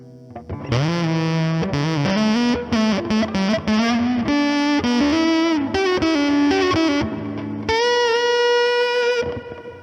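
An electric guitar plays a melodic line through an EHX Percolator fuzz pedal, a thick, distorted fuzz with an added lower octave beneath the notes, sustained and fairly loud.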